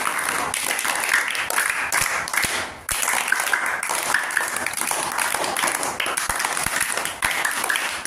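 Applause in a primary school classroom, a steady patter of many small hands clapping together for several seconds, with a brief pause partway through before the clapping picks up again.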